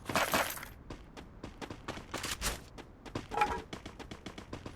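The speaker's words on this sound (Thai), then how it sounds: "ปืน M60 นะครับ" An M60 machine gun fires in the shooter game Free Fire: repeated sharp bursts and rattling shots, loud and close, with game effects between volleys.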